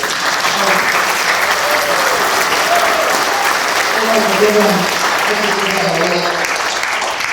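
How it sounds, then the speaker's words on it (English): A crowd applauds steadily and loudly, with cheering and shouted voices mixed into the continuous clapping. "Give us a cheer."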